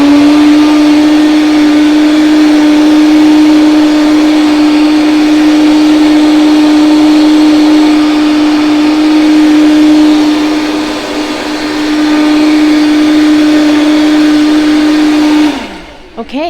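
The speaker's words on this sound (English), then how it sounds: "It's blending nicely" A countertop blender whirs steadily on high for raw vegan pesto dressing, a loud sustained motor hum with a slight dip in pitch midway, then cuts off abruptly near the end.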